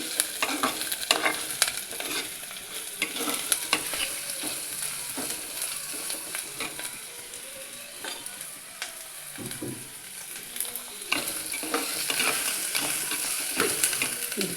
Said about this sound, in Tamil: இதை நல்லா வதக்கணும் நல்லா வதக்கி கொடுத்தோம்னா